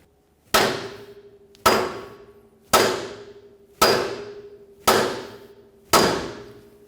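Six sharp, ringing hammer blows at a steady pace on the lower control arm of a 1994-1997 Honda Accord, striking to shock the front ball joint stud free. Each metallic clang is close, loud and decays quickly, with no talk.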